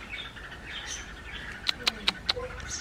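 Sparrow chirping near its nest, four short sharp chirps in quick succession toward the end, over soft background noise and faint talk.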